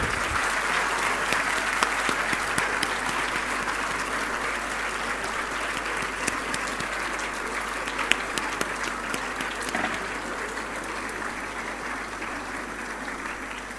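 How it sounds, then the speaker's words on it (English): Sustained audience applause in a hall at a Women's Day summit at SDNB Vaishnav College in Chennai, a continuous even wash of many hands clapping with a few sharper individual claps standing out, heard at a moderate distance. "A big round of applause, please."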